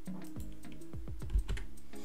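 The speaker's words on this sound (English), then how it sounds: "then I'll type the name of the database I wanted to create" Computer keyboard typing a database name, a quick close run of about a dozen key clicks in an uneven rhythm, alone without speech.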